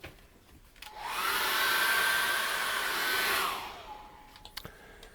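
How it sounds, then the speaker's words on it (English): A hair dryer whirs on, blows with a steady loud rush for a couple of seconds while drying acrylic paint, then switches off, leaving faint clicks and handling noises. "I'm just going to dry that off very quickly with my hairdryer."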